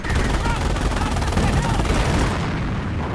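Continuous dense rocket bombardment mixed with gunfire from the Company of Heroes video game, a loud unbroken roar of blasts and shots that fills the whole stretch without letting up.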